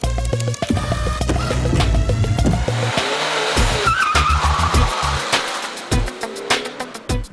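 Taxi from the film Taxi 4 driven fast on a set, engine revving with turbo, tires squealing and skidding in loud bursts with sharp clicks and clatter around it.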